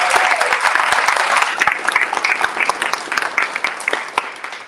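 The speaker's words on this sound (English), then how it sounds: "Round of applause, por favor." An audience at a Houston town hall meeting on city council districts bursts into loud applause that starts dense and thins into scattered, distinct claps toward the end.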